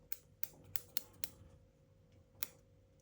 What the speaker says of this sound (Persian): این با قیچی هم خیلی مرتب روشو میگیریم و مخملی میکنیم